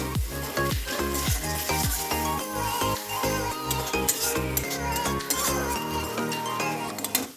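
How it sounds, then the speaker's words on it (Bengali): Ginger, cumin and green chili spice paste frying in a pan for a mushroom curry, with a continuous sizzle and repeated clinks of a utensil stirring against the pan. "এটাকে ভালো করে আগে কষে কষে ভাজতে হবে একটু"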